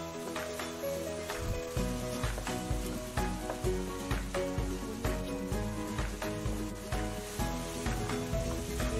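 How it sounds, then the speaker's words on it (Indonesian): Blended spice paste with shrimp paste sizzles and sautés in a hot pan, a steady frying hiss broken by regular rhythmic scraping strokes of stirring throughout. "Ditumis"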